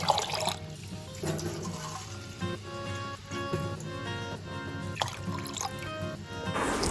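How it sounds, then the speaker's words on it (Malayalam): Rice being washed in water for cooking in a home kitchen, with steady splashing and trickling of water against a low background hum, continuous and close. "അങ്ങനെ അരി നല്ല കഴുകി വൃത്തിയാക്കിയിട്ടുണ്ട്"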